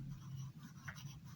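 A pen or pencil scratches across paper during a math lesson, with faint, quiet strokes over a low steady hum and no speech.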